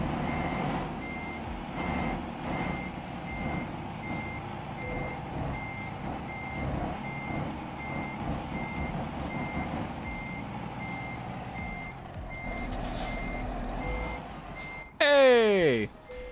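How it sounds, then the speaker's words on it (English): Repeated reversing beeps from a truck backing up in the video game Euro Truck Simulator 2, a steady evenly spaced electronic pulse under engine rumble with talk over it, ending in a sharp hiss like an air brake. "The beeping is haunting me."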